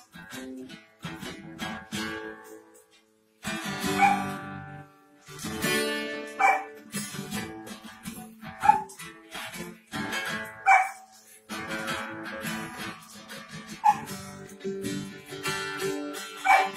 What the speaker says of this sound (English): Barking to the rhythm.